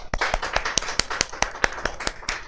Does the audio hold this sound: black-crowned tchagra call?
no